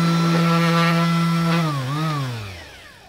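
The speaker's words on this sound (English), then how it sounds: "It's the little sander, little Orbital sander." A small Ryobi One+ 18V cordless orbital sander whirs with a steady motor tone, then winds down as it is switched off, its pitch dropping away.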